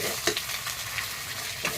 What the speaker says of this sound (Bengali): এখন আমি মশলাটা ভেজে আমি এখন আলু আর বেগুনটাকে একটু একবারে দিয়ে আমি কিন্তু ভেজে নিচ্ছি